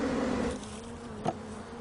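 Honey bees drone in a steady, low buzzing hum around their hive, a continuous insect whir that rises slightly near the middle with one brief closer pass.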